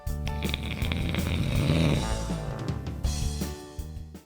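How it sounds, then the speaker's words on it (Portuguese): A person snores loudly and close, one long rasping drawn breath that builds and fades, with no talking. "Querido, por que a gente ronca?"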